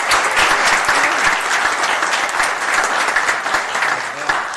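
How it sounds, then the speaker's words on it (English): Crowd applause at a city council meeting honoring a young student council president, a steady dense clatter of many hands held at an even level for the whole stretch with faint voices underneath. "So let's give her a big round of applause."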